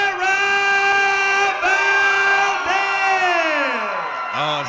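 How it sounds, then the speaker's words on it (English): A fight-night boxing crowd roars and cheers for the winner after a first-round TKO, a loud, sustained wall of whoops and yells with high shrill voices layered on top throughout. "how nice for Miss Valdez to hear that from the crowd."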